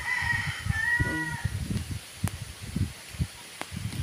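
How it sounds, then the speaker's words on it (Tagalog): Chickens cluck and a rooster-like call rises briefly, with rustling and scattered thumps nearby; no talking. "mga manok natin, ayan."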